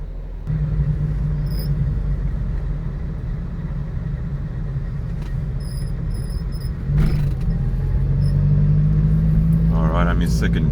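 A first-generation 1974 Honda Civic with a new clutch drives in second gear, its low steady engine rumble filling the cabin, with a brief thump and a rising engine note near the end.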